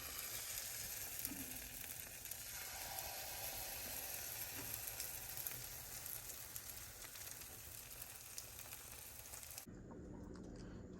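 Pancakes frying in a pan, a continuous soft sizzle with faint crackles throughout that suddenly cuts to near quiet just before the end.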